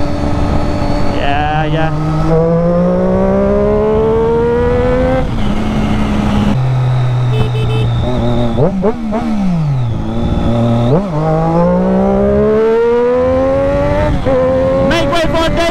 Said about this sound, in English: The bike is super loud.